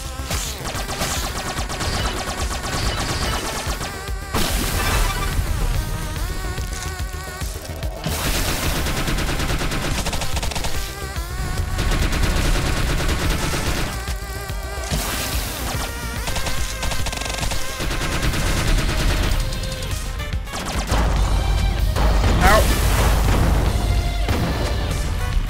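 Dense, continuous bursts of gunfire and explosive blasts fill the action of The Mummy Demastered, a retro side-scrolling shooter, with loud rapid volleys over a steady game soundtrack.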